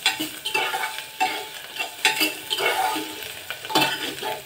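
Peanuts and dal sautéed with dried red chillies and coriander in a pan, with a spatula scraping and stirring in a repeated rhythm over a light sizzle, close and clear.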